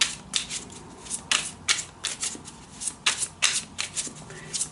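Tarot cards being shuffled by hand, a run of crisp riffling bursts in an irregular rhythm, close and fairly quiet, with brief pauses between shuffles.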